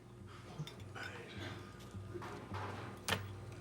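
Dishes washed in a kitchen sink: soft clinks of plates and cutlery over a low steady hum, with one sharper clatter near the end, fairly faint and without close talk.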